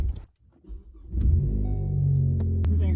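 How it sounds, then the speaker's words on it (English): A Ford ST car with a newly installed turbo starts up after a brief crank, then settles into a loud, steady, close engine rumble that grows slightly as it pulls away. "I'm gonna put the car on the ground and then take it for a drive."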